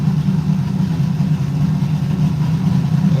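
Car engine idling on its first heat cycle, a steady low rumbling drone, close and even throughout with no talk.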